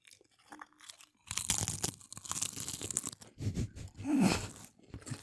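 Chips crunched close to the mic while eating, with a few small snaps followed by a loud stretch of crackling, crinkly chewing. One short voiced sound breaks in near the end.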